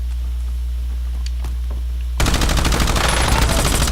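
Video game gunfire that bursts in suddenly after two seconds of near-quiet hum, a loud rapid machine-gun stream that continues to the end.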